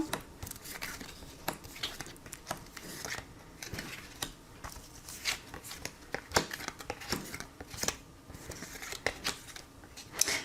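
Tarot cards being shuffled, handled and drawn one by one: soft, irregular riffling, sliding and tapping of card stock, fairly close and quiet, with scattered sharper snaps.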